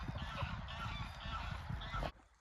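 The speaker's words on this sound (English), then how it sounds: "They're just some geese." A flock of geese in a field honks in a continuous, overlapping chorus at moderate distance, a steady raucous clamour that stops suddenly.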